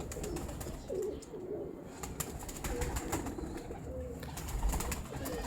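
Pigeons kept by a traditional Pakistani fancier give soft, low cooing that repeats through continuous ambient noise, moderately near and fairly faint, with no voices over it.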